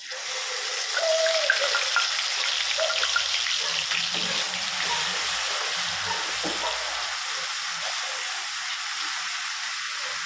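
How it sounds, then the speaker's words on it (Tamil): Ground shallot paste hits hot ghee and oil with fennel seeds, setting off a steady, close sizzle and hiss that holds for several seconds, with occasional pops and no voices. "சின்ன வெங்காயம் எடுத்து அரைச்சி வச்சுருக்கோம்ல அந்த வெங்காயத்தை போட்டுக்கலாம்"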